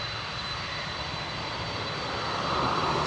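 Steady broadband roar of a fixed-wing aircraft engine on a runway, continuous and fairly close, swelling slightly louder toward the end, with no voices.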